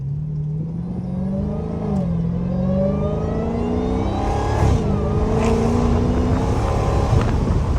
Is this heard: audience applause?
no